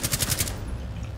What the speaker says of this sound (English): I was getting shot by both Eli and Echo